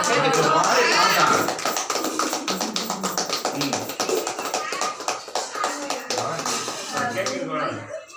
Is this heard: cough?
no